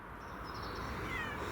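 A cat on a garden bed meows in a faint, drawn-out wail over a steady outdoor background hiss, with no speech.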